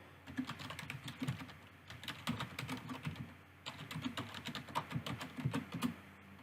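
Quick, close clicking of keys on a computer keyboard as an email address is typed into a sign-in page, in short irregular bursts with a brief pause midway.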